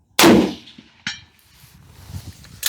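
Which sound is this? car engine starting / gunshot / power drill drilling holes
gunshot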